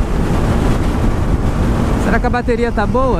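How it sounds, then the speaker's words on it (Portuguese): Strong wind roars into the microphone in steady heavy gusts outdoors, then someone speaks over it near the end. "Nossa, mano, que ventania."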